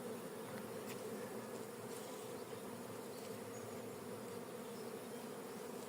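Honeybees buzzing steadily around a hive while it is being changed, a dense, continuous hum close by with faint clicks and handling noises, no voices.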